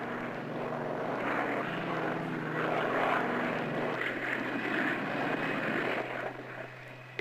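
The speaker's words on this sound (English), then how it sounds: "In landing all prop aircraft" A propeller aircraft drones on its approach to land on an aircraft carrier, a steady engine hum with a low tonal whine that swells slightly in the middle and eases toward the end.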